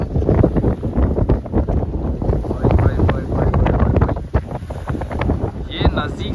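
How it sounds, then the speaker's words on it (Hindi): Strong wind buffeting the microphone over the continuous roar of rushing water at the Nagarjuna Sagar dam, loud and steady throughout. "देख सकते हैं कैसी हवा चल रही है और पानी की आवाज भी किस तरह से आ रही है"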